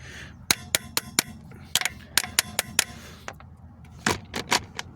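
Short sharp clattering hammer bursts from a Seesii WH710 impact wrench working a rusted lug nut, coming in quick clustered volleys with brief pauses between, close and loud.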